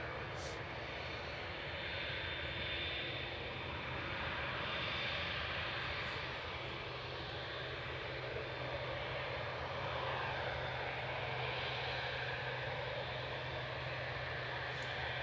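A 2E Boeing 787-9 departs Manchester for Bridgetown, its engines a steady broad roar that holds loud throughout with no pause or fade.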